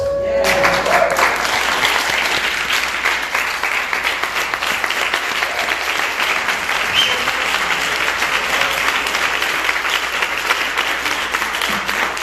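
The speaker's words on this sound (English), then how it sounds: "Come on, let's give them a hand." An audience claps warmly and steadily, a dense crackle of many hands that holds for several seconds with a faint voice or two beneath it.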